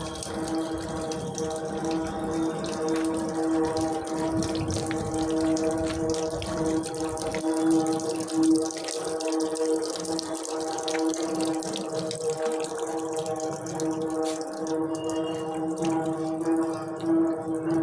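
Dirty water from a municipal bathroom draining down behind a site, a continuous steady rush and gurgle with a faint hum underneath.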